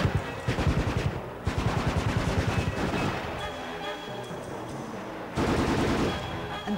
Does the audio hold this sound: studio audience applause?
no